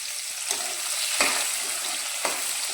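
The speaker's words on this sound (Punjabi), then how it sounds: "ਆਪਾਂ ਪਹਿਲਾਂ ਪਿਆਜ਼ ਨੂੰ ਭੁੰਨ ਲੈਂਦੇ ਹਾਂ" Onion and green chilli frying in a pan over a low gas flame, a steady close sizzle with a few soft stirring scrapes, no talking.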